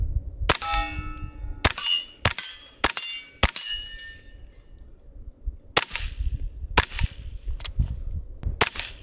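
Suppressed CMMG Banshee 9mm carbine firing Freedom Munitions Hush ammunition outdoors, a string of about ten sharp, muffled shots in irregular bursts, some followed by metallic ringing, with no talking.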